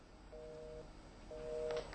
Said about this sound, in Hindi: फोन काट के चले गए रामेश्वर कुशवाहा जी।